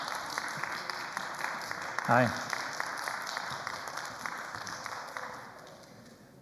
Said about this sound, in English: So have a round of applause for Dr.